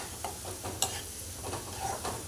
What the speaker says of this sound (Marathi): आता याच्यामध्ये मी एक चमचा आलं लसूण पेस्ट घालणार आहे आणि छान परतून घेणार आहे सगळं